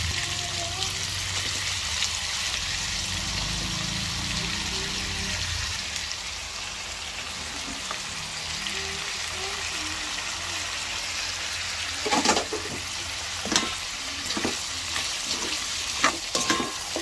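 Vegetables hit a hot pan already frying shrimp and rendered pork belly fat, giving a steady loud sizzle with stirring scrapes and a few sharp clatters toward the end.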